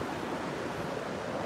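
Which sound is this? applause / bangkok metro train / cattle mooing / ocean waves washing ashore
ocean waves washing ashore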